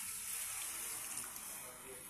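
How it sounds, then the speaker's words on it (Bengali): Water pours steadily into a pot of jackfruit curry as it cooks, a continuous soft splashing hiss that eases slightly toward the end. "এখন দিয়ে দেব পরিমাণ মতো জল।"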